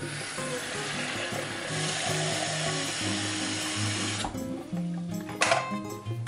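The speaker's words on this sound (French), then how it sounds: "prenez votre cafetière et remplissez-la d'eau" Tap water runs steadily into a coffee maker carafe, a continuous loud rushing that fills the clip, then the flow stops and a few clinks and knocks of the glass follow.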